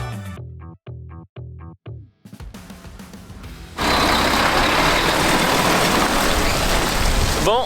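A delivery truck maneuvers to pass and unload, its heavy engine rumbling nearby with a few short beeps at first, then a loud steady roar that fills the rest of the scene, without speech.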